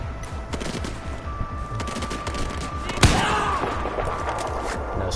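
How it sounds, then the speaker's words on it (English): Video-game gunfire with a sniper rifle in the mix: rapid bursts of shots run under the action, and a single sharp, loud crack stands out at about three seconds. "I think I hear a sniper"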